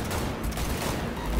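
Dense, loud gunfire from a vehicle chase in the video game Cyberpunk 2077, a continuous rapid volley filling the short moment.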